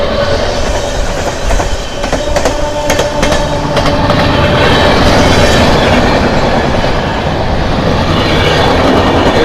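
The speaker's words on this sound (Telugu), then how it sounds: "ఏ ట్రైన్ చూస్తా గంగా కావేరి ఎక్స్ప్రెస్ అనేది." Ganga Kaveri Express passenger train speeding past on the next track, with a loud, steady rumble and rapid clickety-clack of wheels over rail joints throughout.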